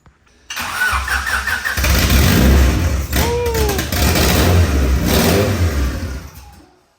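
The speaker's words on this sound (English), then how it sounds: "Johnny's gonna start off his EK for us, bro." A Honda Civic EK Mugen Si engine cranks and fires up, then revs loudly several times with a raspy exhaust, close by, with a voice briefly heard in the background.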